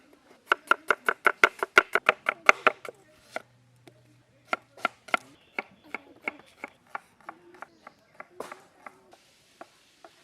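A knife chops rapidly on a cutting board in a tribal village kitchen, a fast, sharp run of close knocks that slows into scattered single cuts and faint scraping.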